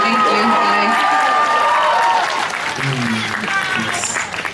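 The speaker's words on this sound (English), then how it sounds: "Somebody's clapping." Audience applause at a pop singer's mini showcase Q&A in New York, a dense steady clatter of many hands that thins out partway through as a voice talks over it.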